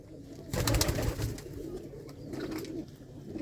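Pigeons kept for sale coo in a loft, several soft rolling calls close by, swelling louder partway through over faint background noise.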